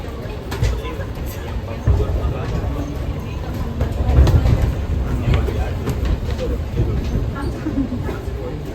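A commuter train rolls along the rails with a steady low rumble and faint clickety-clack, heard from inside the carriage, with murmured voices in the background.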